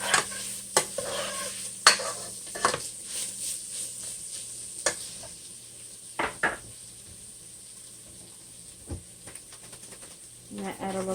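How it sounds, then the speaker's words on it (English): Meat for Tex-Mex enchiladas sizzles in a frying pan while a utensil stirs it, giving repeated scraping clacks over a steady close hiss that settles down toward the end. "let's give this a little stir"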